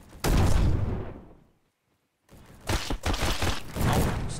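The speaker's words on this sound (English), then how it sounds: "Oh, stop shooting, man." Gunfire in the Roblox shooter Bad Business, loud dense bursts of shots that cut out into a brief silence before another rapid volley resumes, with no talk over it.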